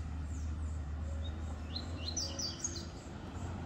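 A small double-collared seedeater gives several quick, high chirping calls in bursts, fairly faint over a constant low background hum.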